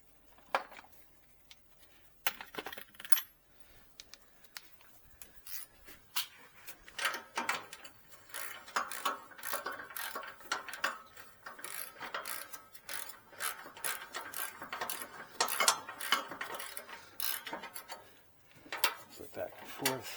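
A 17 mm nut being tightened on a Jeep Liberty muffler during exhaust replacement, with repeated ratcheting clicks and metallic mechanism sounds over about twenty seconds, fairly quiet and steady.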